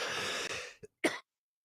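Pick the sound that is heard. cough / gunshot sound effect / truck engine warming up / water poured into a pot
cough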